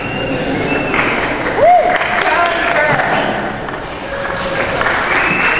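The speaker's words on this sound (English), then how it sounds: "You can clap and make as much noise as you like." Audience applause and cheering fill a citation ceremony as names are read out, with steady crowd clapping underneath a speaking voice and a brief pinging tone partway through.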